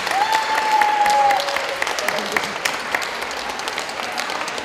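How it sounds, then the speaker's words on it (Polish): Steady audience applause at an International Day of Persons with Disabilities event in Krynica-Zdrój fills the room, with a brief voice rising over it at the start before the clapping carries on alone. "jeszcze wielkie brawa dla Piotra za to, że dzisiaj tak pięknie był"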